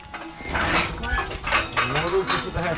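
Sheep call out repeatedly in wavering, bleating cries close by, overlapping one another in a busy livestock pen.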